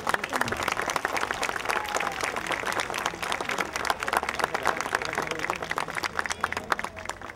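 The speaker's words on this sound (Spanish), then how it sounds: "Jorge Muñoz Wells, alcalde de Miraflores, a quien pido recibamos con un fuerte aplauso." A crowd at a park inauguration ceremony breaks into sustained, even applause. The clapping comes from a distance and continues throughout, with no speech over it.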